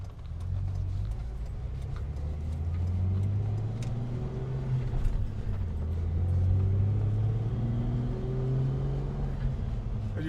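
Straight-six petrol engine of a 1992 Toyota Land Cruiser 80 Series 4500GX heard from the cabin while driving, a low steady drone that rises and falls through gear changes under road rumble.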